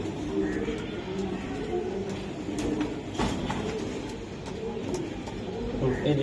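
A male Giribaj high-flying racing pigeon coos in a low, steady, continuous murmur, close by and unbroken.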